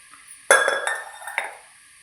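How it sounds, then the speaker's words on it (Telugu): Steel pressure cookers clink and clatter as a 5-litre cooker is lifted out from inside a nested set, two sharp metallic knocks with a short ringing tail, close and fairly loud. "లోపల 5 లీటర్లు కూడా ఉంది, తీసి చూపిస్తాను."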